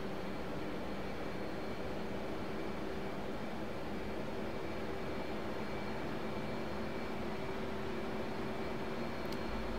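An F/A-18C Hornet jet engine in the DCS flight simulator, heard as a steady, loud, broadband roar with a constant whine, unbroken from start to finish, with no talking.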